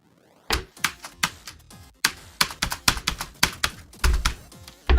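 Keys on a cheap computer keyboard clatter in quick irregular bursts of sharp clicks, some fast runs and pauses, close and fairly loud with no talking.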